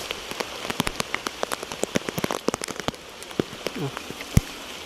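Heavy rain pattering hard on a surface, with sharp irregular drops and splashes striking close by, no voices, during banana picking.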